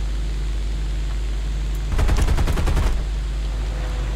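.50 cal machine guns in the video game War Thunder fire one rapid burst of about a second over a steady low engine drone.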